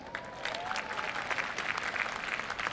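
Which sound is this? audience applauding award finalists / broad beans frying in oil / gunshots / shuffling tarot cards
audience applauding award finalists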